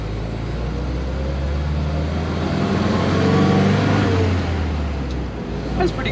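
Austin Gipsy G4M10 engine droning steadily at close range while driving, a low continuous rumble with road noise that swells slightly mid-way.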